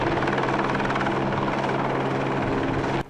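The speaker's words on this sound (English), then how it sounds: "A chopper overhead" A helicopter flies overhead above a film shoot on a bridge in Washington, D.C., its rotor chop loud, steady and continuous throughout with no one speaking.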